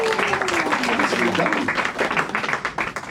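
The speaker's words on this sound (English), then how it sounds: "give yourselves a big round of applause" Audience members at a family magic comedy show in Atlantic City applaud themselves, a steady wash of clapping with a voice or two talking over it throughout.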